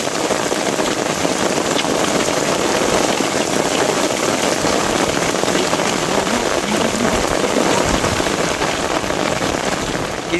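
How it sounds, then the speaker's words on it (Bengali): Heavy rain pours during a storm beside a river, a dense, constant roar of drops hammering surfaces with no break across the whole stretch, loud and close. "এত বৃষ্টি হচ্ছে।"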